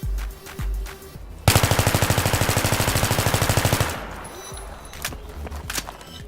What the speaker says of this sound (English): we're gonna do full automatic fire with the heavy barrel on this side while controlling the recoil also